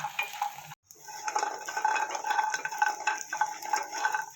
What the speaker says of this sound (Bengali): বড়িটা একটু লাল করে ভালো করে ভেজে নেবো।